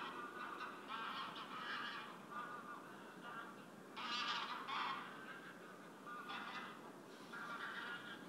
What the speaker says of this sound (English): At nightfall, the geese seek refuge in the water to sleep safe from the wolves,